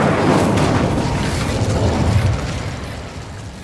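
An Incendio fire spell cast in the video game Hogwarts Legacy: a loud, close, roaring whoosh of flame with a deep rumble that holds steady and then fades slightly toward the end, no talk.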